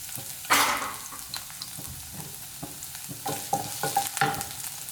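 Finely chopped garlic drops into hot oil over a high flame for vegetable fried rice, sizzling steadily while a spoon scrapes and taps the pan in quick, close strokes.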